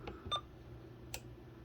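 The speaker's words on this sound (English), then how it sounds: "Key beep" Key beeps from a President McKinley II CB radio: two short, quiet electronic chirps close together, then one more a moment later, over faint background hiss.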